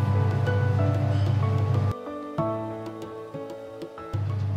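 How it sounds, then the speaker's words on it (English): A dough mixing machine kneads wheat flour dough for Turkish-style long meat pita, giving a steady, close motor rumble with churning noise. The rumble drops away midway while tonal, music-like notes ring out, then returns at full strength. "Wheat flour is added and it will be mixed in the machine for 10 minutes and become dough."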